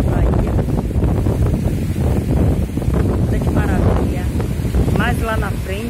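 Strong sea wind roars across the microphone at a mangrove by the sea, a loud continuous buffeting with a person talking over it throughout.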